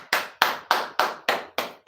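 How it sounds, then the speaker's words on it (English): Seven crisp, evenly paced hand claps sound close and loud in a live class setting, each a sharp strike with a quick decay and no talk over them. "a round of applause for yourself."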